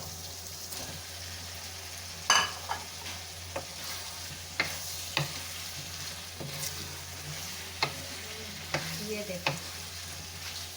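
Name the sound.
potatoes added and stirred into frying mixed vegetables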